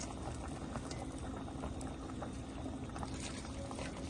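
A pot of tomato fish stew with kangkong simmers and boils steadily, giving a faint, continuous bubbling and gurgling that stays even throughout without any speech.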